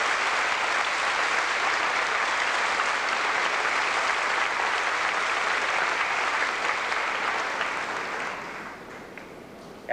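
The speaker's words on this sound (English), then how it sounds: "Can we have a round of applause for these graduates?" Sustained applause from a large crowd at a high school graduation, dense and steady for most of the stretch, then thinning slightly near the end.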